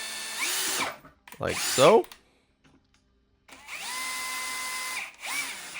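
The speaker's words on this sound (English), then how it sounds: "we're going to take our 1/8 inch drill bit and we're just going to drill directly through these holes" A power drill with a 1/8 inch bit bores through holes in a GasGas 125cc fork guard bracket, two separate whirring runs with pitch sweeps as it spins up and slows down, a short spoken remark between them.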